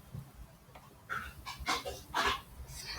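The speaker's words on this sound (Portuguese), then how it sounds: "Cachorro." A dog barks in a heart surgery video game: a few short, clipped yaps in quick succession over a quiet background, ending in a sharp louder burst.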